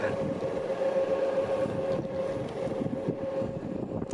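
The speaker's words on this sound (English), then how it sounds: "There is a slight little hum as you're driving around." An Inokim Quick 3 electric scooter gives off a steady thin motor whine while riding, partly buried under blustery wind noise on the microphone, with no talking.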